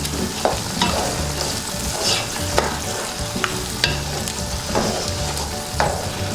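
Meat with garlic, ginger and turmeric fries loudly while being stirred, a close continuous sizzle punctuated by repeated sharp scrapes and clacks of the utensil against the pot, with no one talking.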